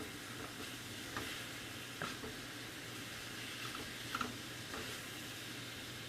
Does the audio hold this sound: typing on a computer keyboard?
no